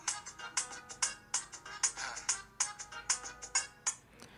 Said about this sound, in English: as you can hear, it plays straight from the Galaxy Watch speakers